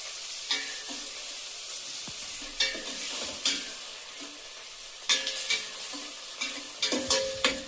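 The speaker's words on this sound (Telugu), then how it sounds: "టమాటో ప్యూరీ వేయాలి. పచ్చి వాసన పోయే వరకు బాగా ఫ్రై చేసుకోవాలి." Chopped onions frying with tomato puree in a pan, a soft sizzle broken by repeated stirring scrapes and clatters of a spoon against the pan, close and fairly quiet.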